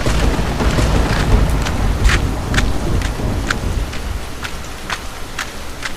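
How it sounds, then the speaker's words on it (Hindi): Loud, heavy rain from a stormy night in a Hindi cartoon drums continuously, with a deep rumble of thunder in the opening seconds and crisp drops spattering throughout, without any voices. "बारिश बहुत तेज थी, फिर भी वह किसी तरह पहुंच जाता है रवि के घर।"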